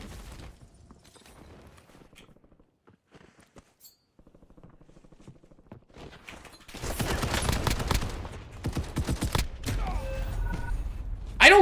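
Gunfire rings out in the video game Warzone. Sparse, quiet clicks and shots give way to loud, dense bursts of rapid automatic fire and booms through the second half.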